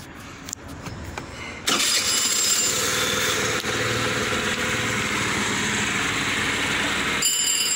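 After a few faint clicks, a Piaggio Zip scooter engine with a noise in the kickstart casing fires up and settles into a loud, steady idle that continues to the end.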